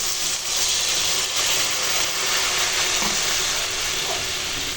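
Water poured into a frying paste of ground melon seeds, cashews and poppy seeds, giving a loud, continuous sizzle and hiss that holds steady throughout, nearby and with no talk.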